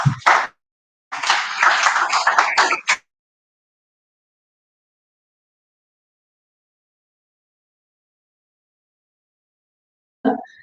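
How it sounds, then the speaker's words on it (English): Applause from an audience at a ceremony honouring a national productivity award, a short burst of clapping, then a fuller round lasting about two seconds, followed by long silence and a brief return of clapping at the end. "I also want to request that you celebrate yourselves with a round of applause."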